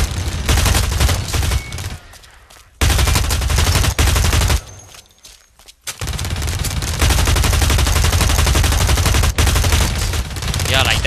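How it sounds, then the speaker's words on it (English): Rapid bursts of automatic gunfire from the first-person shooter BlackLight: Retribution, loud and dense, broken by brief pauses around reloads before the firing resumes. "I waste a lot of bullets just by trying to kill someone because I'm a bad aim."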